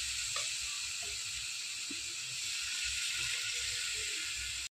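Chicken hara kababs frying in a large, sparsely filled pan, a soft steady sizzle and hiss throughout with a few faint pops and low background rumble.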